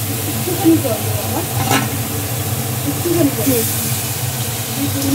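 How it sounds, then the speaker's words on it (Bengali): Potatoes and ash gourd stalks are stir-fried in a pan with goat fat, giving a loud, close, steady sizzle and hiss with occasional spatula scrapes, plus faint murmuring in the background. "এবার মা আলুগুলো দিয়ে একটু নাড়াচাড়া করে নেবে, ডাঁটাগুলোও দিয়ে দিচ্ছে"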